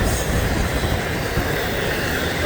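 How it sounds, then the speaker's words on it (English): A northbound train passes close by, a loud, continuous rumble of wheels and rail clatter filling the whole stretch with no voices. "Not a humongous train, but a nice train nonetheless."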